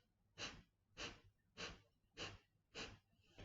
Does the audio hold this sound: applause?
no